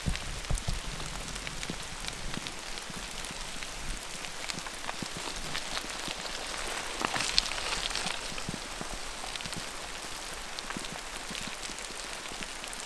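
Steady rain falls during a bike tour through the Oregon Cascades, a continuous dense patter of drops on surfaces with occasional sharper hits and no voices.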